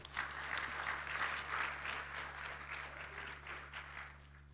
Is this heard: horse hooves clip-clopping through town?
no